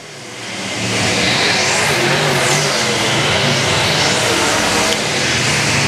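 Race cars roaring past at a speedway during a scramble event, a loud, dense engine wail rising quickly and holding at full volume, with Doppler sweeps as cars pass close by.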